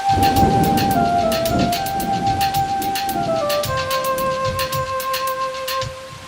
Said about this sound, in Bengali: হঠাৎ বৃষ্টি শুরু হলো।